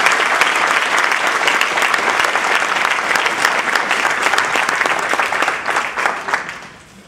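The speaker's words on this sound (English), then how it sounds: "let's give her a big round of applause" Audience at a District 30 spring conference applauding, a steady, dense clapping that holds strong and then tapers off in the final second.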